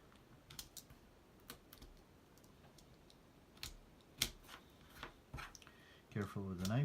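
A knife trims off wooden toothpicks on a UGears wooden mechanical roadster model, making a close series of small, sharp clicks and snaps at an uneven pace. A voice comes in briefly at the end.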